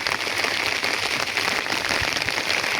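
Steady rain falls outdoors at a farmyard where a young foal is kept, a dense continuous patter of drops on surfaces without pause, with no one speaking.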